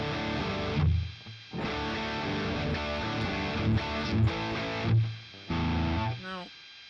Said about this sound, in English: Go back to the distortion and see what we get.